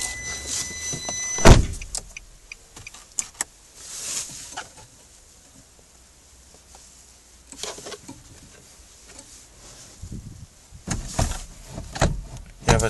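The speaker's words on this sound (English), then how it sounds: "Power windows, door locks," Inside a 2012 Nissan Versa sedan, the power windows whir and the door locks clunk in short mechanical bursts, separated by quieter gaps in the cabin.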